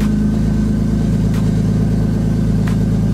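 A BMW E46 car engine runs steadily at idle just after a slow start on a low battery, with a close, even, low mechanical hum throughout and no talking.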